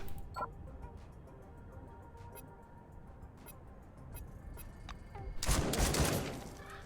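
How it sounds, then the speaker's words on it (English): Gunfire in the video game Encased: scattered sharp clicks and shots crackle over a low rumbling background, building to a loud burst of fire near the end. "oh, a gunshot, oh, a gunshot"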